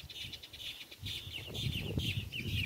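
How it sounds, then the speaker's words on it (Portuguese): Small songbirds, the kind locally called garrincheiro, sing in quick chirping bursts over about three seconds outdoors on a hot November day, several calls overlapping at moderate distance with no talk. "Os passarinhos estão numa alegria danada cantando."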